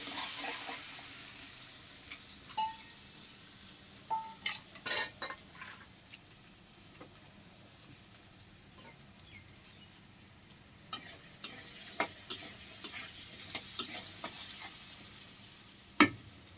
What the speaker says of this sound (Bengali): মিষ্টি কুমড়া ভাজি করছি